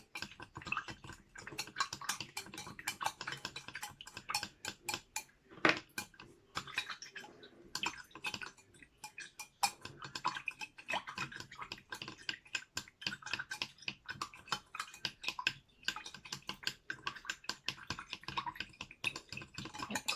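Finger paint stirred into water in a glass with a spoon gives a long run of quick, light clinks and taps against the glass, close and fairly soft, steady for about twenty seconds with no speech.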